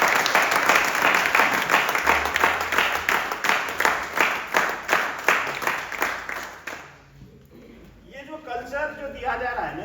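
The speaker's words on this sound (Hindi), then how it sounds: "ताली।" Audience at a team event giving rhythmic, unison clapping for several seconds that fades out, followed by someone talking.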